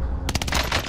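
Gunfire in a video game: after a brief quiet moment, a rapid burst of several sharp automatic shots rings out close and loud, then trails off.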